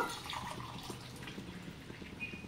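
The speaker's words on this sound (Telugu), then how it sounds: "ఇప్పుడు నేనైతే వాటర్ పోసేసుకున్నాను" Hot water pours steadily into a pot of basmati rice, a continuous close splashing and trickling stream with faint dripping and no talking.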